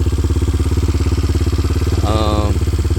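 A Coolster 175cc ATV engine idles close by with a steady, throbbing low chug, and a brief metallic rattle or whine cuts in near the end.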